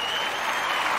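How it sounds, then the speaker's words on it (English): An audience at a motivational talk breaks into a brief, steady burst of clapping and crowd applause, dense and fairly close, lasting about a second. "I want to give them all a round of applause."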